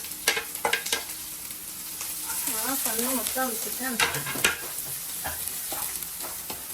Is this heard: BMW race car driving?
no